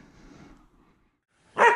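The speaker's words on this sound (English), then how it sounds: "Got a bark as soon as I start to say that." A single loud dog bark bursts out close by at the end, after a quiet stretch with faint low background sound.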